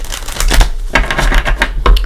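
Tarot cards being shuffled by hand, a loud, close, continuous riffling and flicking with several bursts of crisp card slaps, no talk.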